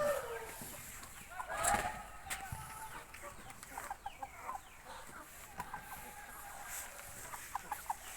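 Scattered clucks and short calls from nearby roosters, with a few sharper squawks over steady farmyard background noise.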